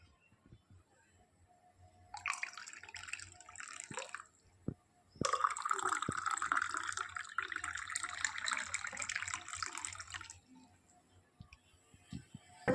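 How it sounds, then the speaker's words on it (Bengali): Water poured into a kettle or pot for making tea, with a steady splashing stream in two bursts, the second longer and louder, close by with no talking. "এই চায়ের জলটাও একটু দিয়ে দিলাম"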